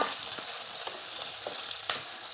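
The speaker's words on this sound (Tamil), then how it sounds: "தக்காளி கூடவே வெங்காயத்தையும் சேர்த்து இன்னும் ஒரு பத்து நிமிஷத்துக்கு வதக்கிக்கோங்க" Onions and tomatoes sauté in a pan for a Tamil-style ayla (mackerel) fish curry, giving a steady close sizzle broken by a few soft stirring scrapes, with one sharper clink near the end and no voices.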